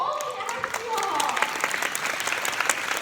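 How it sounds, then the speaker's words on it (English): Audience applause at an entrepreneurs event in Japan, dense clapping throughout the short stretch, with a speaking voice briefly over its opening before the clapping continues alone. "Can you give a round of applause first of all to Yoshi?"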